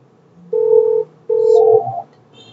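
Extension 181 is dialed on a Panasonic KX-NT511P IP phone, giving two steady, clear keypad tones in close succession, each lasting about half a second, with a brief quiet gap between them.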